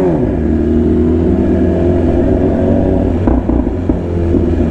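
A vehicle engine revs loudly and steadily up close, a thick continuous rumble with a brief surge partway through, no voices.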